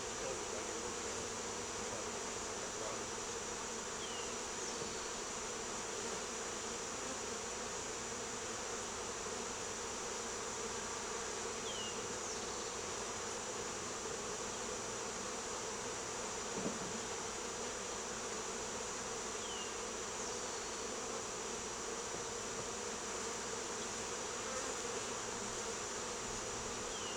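Honeybees from a newly installed swarm buzz continuously around the hive, a dense, steady drone that fills the air without pause, with occasional individual bees passing closer.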